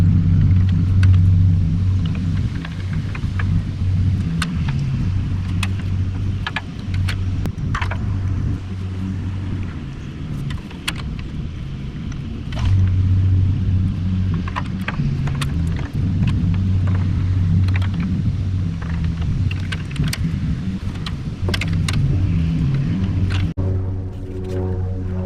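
A 1949 Farmall Cub tractor engine runs close by with a steady low rumbling drone and uneven, lumpy beats. It continues for the whole stretch, with a few brief sharp clicks and knocks over it and no talking.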